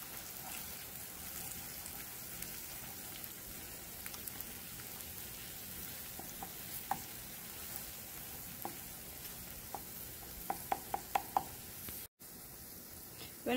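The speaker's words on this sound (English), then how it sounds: "this is my favorite way to do a scrambled egg. I like to partially fry it" An egg partially fried in a pan and then broken up for scrambled eggs gives a faint, steady sizzle with a few soft taps and scrapes of a utensil toward the end.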